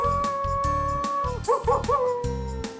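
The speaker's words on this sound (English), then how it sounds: "I know! It's a coyote!" A coyote howls and yips in a steady run of rising and falling wavering calls over a repeating musical backing, with a short yelping flutter partway through.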